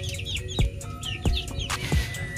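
A rooster or hen of the Indio Gigante or Black Australorp breed clucks in short repeated calls over a steady chorus of chirping birds, fairly close.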